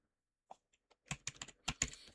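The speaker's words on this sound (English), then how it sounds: "then I'm typing print" Keystrokes on a computer keyboard while writing a first line of Python code, a few sparse taps and then a quicker cluster of clicks, close and clear with no talking.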